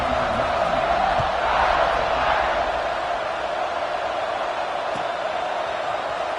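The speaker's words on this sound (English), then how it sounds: "They're set to kick it off, and this crowd now ready to get behind them." Steady roar of a large football stadium crowd at a USC vs Notre Dame game as the kickoff approaches, a broad continuous wash of cheering and noise with a commentator's voice faintly over it.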